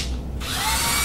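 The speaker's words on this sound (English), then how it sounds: "I'm gonna use the 7/16 inch drill bit." A power drill fitted with a 7/16 inch bit bores a hole during a TV mount installation, a short, close, loud whir that starts abruptly and holds steady.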